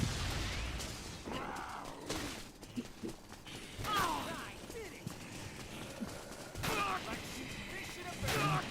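Sniper gunfire in the video game Dead Rising, sharp cracks scattered through the stretch, some close and loud, mixed with game noise and people talking.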